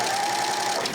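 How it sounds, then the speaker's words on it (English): A Janome 8002D serger overlock machine stitches a rolled hem, giving a brief, close, continuous whirring rattle. "And then give it a few stitches"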